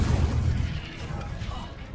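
Incendio fire spell cast in Hogwarts Legacy, heard as a dense, roaring burst of fiery noise with a deep rumbling low end that holds steady for about two seconds.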